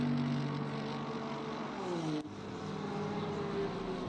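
A racing car engine in a video game at Paul Ricard, heard from chase cam, drones steadily at high revs, pitch sliding as it shifts, with a brief sharp click midway; no talking.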